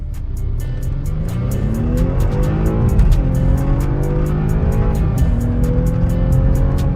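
A 2015 BMW 428i with about 250 horsepower and rear-wheel drive, accelerating hard in sport mode, its engine note rising steadily and loudly through the gears from inside the cabin, with no talk.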